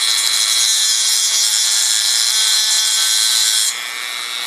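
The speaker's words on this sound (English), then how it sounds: "tool with a grinding wheel, cutting wheel, and very carefully I just get on the rivet on the side of the reed and start" A rotary tool with a grinding wheel grinds a rivet off the side of an accordion reed, a loud, continuous high-pitched whine that drops in level near the end.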